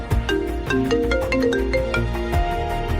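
A phone ringtone for an incoming call plays alone, a bright repeating melodic tone pattern, fairly soft and steady over a few seconds.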